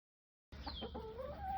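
A meat chicken clucks and calls briefly after a moment of silence, close by and fairly quiet, on a family farm.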